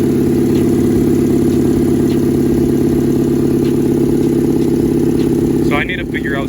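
A boosted Honda R18 engine idles loudly and close up, a steady low drone with rattling and shaking throughout, then a person begins talking at the very end.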